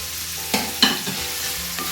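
Onion and carrot stir-fry for vegetable noodles, with a steady sizzle broken by several close scraping stirs of the spatula at uneven intervals and no talking.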